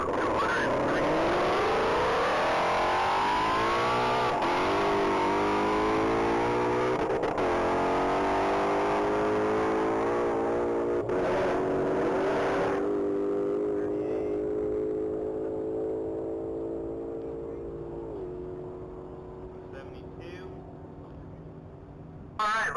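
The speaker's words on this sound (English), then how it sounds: "She's piloting a 22 Ford Shelby GT 500." A 2022 Ford Shelby GT500 accelerates hard on a one-mile top-speed run, its engine climbing through several gear changes in a loud, sustained roar that slowly fades into the distance while an announcer talks over it.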